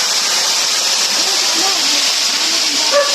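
Water rushes loudly and steadily at a spot where people fetch drinking water, and voices talk faintly beneath the constant flow.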